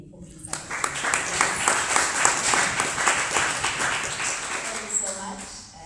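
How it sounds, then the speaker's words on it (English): An audience at an art gallery event breaks into a close, lively round of clapping that swells quickly, holds for several seconds and tapers off, with a voice faintly audible as it ends. "A round of applause to you again"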